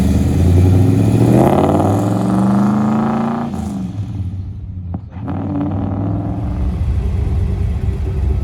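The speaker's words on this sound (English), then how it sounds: "We'll do a burnout." A 1969 Dodge Super Bee with Magnaflow mufflers and a Tremec gearbox doing a burnout, its engine revving loudly in rising surges up close and then settling into a steady rumbling roar with no talk.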